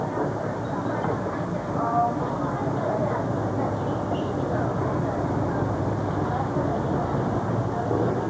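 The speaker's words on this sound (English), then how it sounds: "I got the train a little bit." A passing train in California rumbles steadily and fairly loud throughout, a continuous rolling rail noise with faint clatter, while people talk over it.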